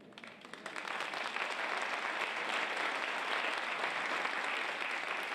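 At a theatre season announcement, an audience's applause swells in within the first second and stays as a broad, steady wash of clapping, heard alone.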